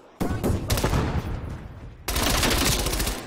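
An MP5 submachine gun fires in Call of Duty Cold War in two sustained, rapid bursts of loud, close automatic fire separated by a brief pause, with no talk over the shooting.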